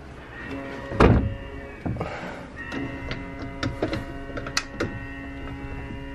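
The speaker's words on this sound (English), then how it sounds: "How do you shut this door now?" Cruise ship cabin door on a Disney cruise pulled shut, a loud thud near the start followed by softer knocks and clicks of the latch over a steady electrical hum.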